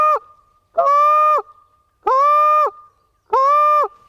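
A short reed Canada goose call blown by mouth imitates honking: four sharp, loud, reedy honks in an even rhythm, each cut off cleanly with silence between, close and alone.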